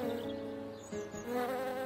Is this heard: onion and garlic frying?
no